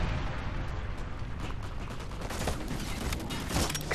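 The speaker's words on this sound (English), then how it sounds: "Friendly Predator missile inbound." Heavy explosive rumble and crackling blasts from a Predator missile strike in a military shooter video game, dense and continuous with sharp bursts building toward the end, no speech.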